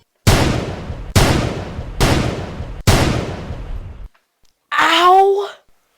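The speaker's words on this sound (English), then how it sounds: "Could have just shot him the once." Four loud, close gunshots ring out in an audio drama murder scene at a café, spaced about a second apart with decaying tails, followed by a short pained cry.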